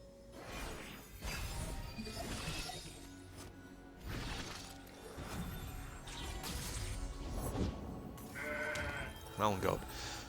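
Mountain goat bleating in a video game, with a short bleat rising over busy game effects and a voice talking.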